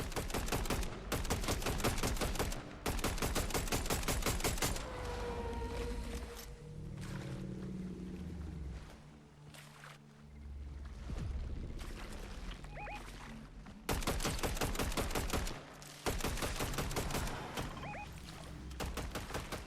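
Gunfire in a Fortnite match: rapid automatic bursts in several long volleys, loud and close, with a quieter stretch of scattered effects between them and no talk.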